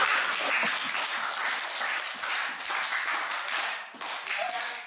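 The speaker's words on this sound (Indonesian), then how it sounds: "Kasih aplaus dulu." Classroom applause as students clap for a group that has just presented, a steady dense patter of many hands lasting the whole stretch, with faint voices mixed in.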